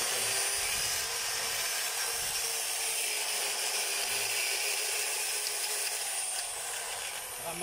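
After a repair that included replacing the cord, a small engine runs roughly on a test, giving a loud, continuous, buzzing drone close by that barely changes over the whole stretch, with no voices.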